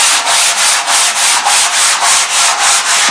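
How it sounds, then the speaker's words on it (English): Very fine sandpaper lightly sands primed canvas with a steady rhythm of soft, close, loud rubbing strokes, roughly three to four per second, with no talk. "give it a very light rub of very fine sandpaper"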